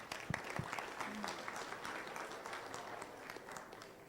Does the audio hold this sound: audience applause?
yes